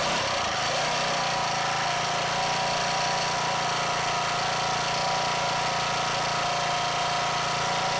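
A Powermate gas lawn edger's small engine runs steadily at a fast, even idle, loud and close throughout, with a constant buzzing drone and no pauses.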